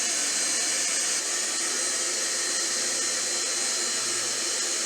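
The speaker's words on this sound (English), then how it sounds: "And then you just want to turn the vacuum on, vacuum out the air." Vacuum pump drawing air out of a line before a CO2 tank is opened, a steady, airy hiss with a faint mechanical hum underneath, running continuously and close by.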